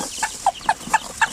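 Mother hen clucking on a backyard farm in rapid, evenly spaced short clucks, about five in quick succession, loud and close.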